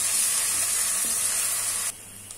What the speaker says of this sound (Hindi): इसमें अब मैं डालूंगी अदरक लहसुन का पेस्ट, इसको फ्राई करूंगी